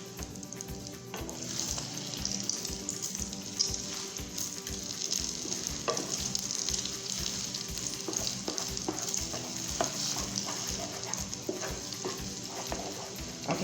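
Spinach scrambled eggs sizzle and fry steadily in a pan for the whole stretch, with occasional stirring scrapes and light pan clicks over the continuous crackle, no talking.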